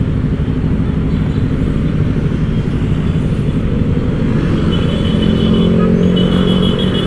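Ten touring motorcycles idle and rumble together before setting off, a loud continuous engine drone with a slight rise in revving near the end.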